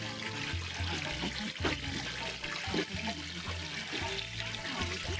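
A squid tube is rinsed under running water, making a steady, close, continuous splash and gurgle with soft handling sounds throughout.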